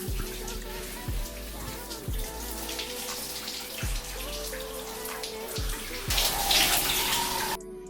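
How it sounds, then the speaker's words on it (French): Running water splashes steadily over hair locs during a quick rinse to wash out red colour, a close continuous pouring with brief changes in flow and a louder gush near the end. "Je rince à nouveau très rapidement avec un peu d'eau pour enlever un peu la couleur rouge."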